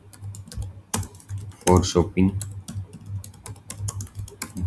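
Computer keyboard typing in a rapid clicking rhythm while text is entered into an Excel invoice, close and steady across the whole stretch, with a brief spoken word in the middle over a low hum.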